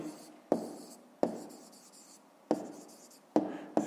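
Pen strokes scratch across paper while a math solution is written out, coming as bursts of close, dry scribbling with short pauses between lines and no voice.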